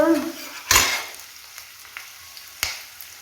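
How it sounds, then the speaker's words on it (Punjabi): Onions frying in hot oil in a home kitchen pan, a steady soft sizzle broken by a loud stirring clatter, a sharper knock, and faint scrapes. "ਤੇ ਆਏ ਇਹਨੇ ਚ ਪਿਆਜ਼ ਭੁੰਨਦੇ ਆ"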